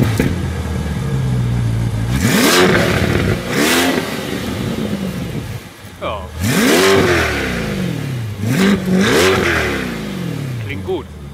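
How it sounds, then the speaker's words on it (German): A 2022 Chevrolet Corvette convertible with a 6.2-litre V8 and factory performance exhaust, revved hard in three or four rising, snarling bursts, each falling back to a burbling idle, loud and close. "Die kommen serienmäßig mit einem Performance-Auspuff."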